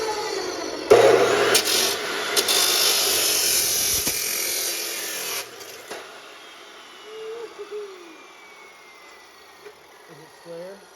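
Saw blade ripping through wood in a home workshop, a loud sustained broadband cutting roar lasting about five seconds before dropping away to quiet room tone and soft movement.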